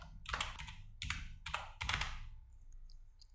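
Quick keystrokes on a computer keyboard, typing a name in three close, rattling bursts with brief pauses between them, then quiet; no one speaks.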